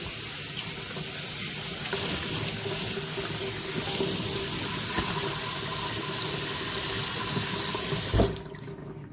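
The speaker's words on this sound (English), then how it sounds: "rinse the lid" Tap water runs steadily and loudly as a plastic blender lid is rinsed under it, a continuous close splashing rush that cuts off abruptly near the end.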